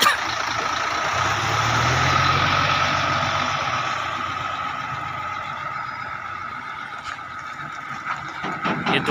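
A heavy truck engine idles during driving-licence training in Saudi Arabia, giving a steady close rumble with a low drone that eases slightly over time, and a few faint clicks and knocks near the end.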